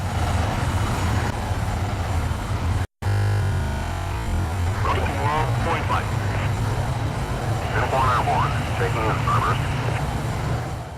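An F-15C jet in a flight video game roars with a loud, steady engine drone through the whole stretch, a brief dropout near the start, while voices talk over it.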